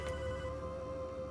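A telephone ringing in the Shadow Warrior game, a steady sustained electronic tone, faint and fairly distant, alone without talk.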